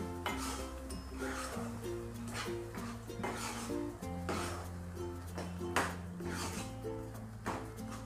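A spoon scrapes and clinks against a cooking pot as whole masoor lentils are stirred, repeated soft scraping strokes over a low steady hum.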